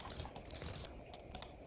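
Quiet keystrokes tap in quick bursts on a computer keyboard as figures are entered into a tax form, close and faint, with short gaps between presses.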